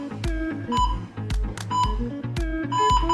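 Electronic workout timer beeps during a plank and core strength session, a repeated sequence of short bright tones in a steady rhythm, loud and alone.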